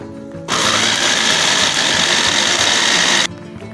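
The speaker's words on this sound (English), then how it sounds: "Now all I'm going to do is go ahead and mince it." Onion and peppers are minced in a small electric chopper, a loud, steady whirring motor buzz that starts abruptly, runs for about three seconds and stops.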